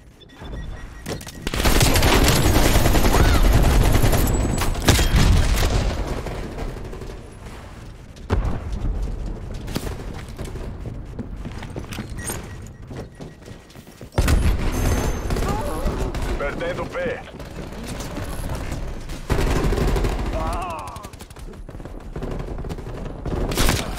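Gunfire in Call of Duty: Black Ops Cold War multiplayer crackles in dense bursts and rapid volleys, loud and continuous, with explosions and a voice talking underneath.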